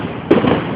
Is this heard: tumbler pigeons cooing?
no